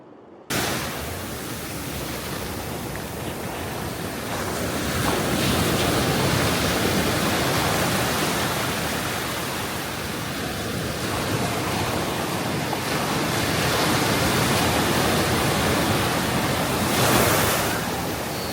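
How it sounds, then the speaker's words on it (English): Ocean surf breaking on Kingscliff Beach in northern New South Wales, a broad steady roar of waves that swells and eases in slow surges, loud and continuous with no voices. "watching and listening to the waves"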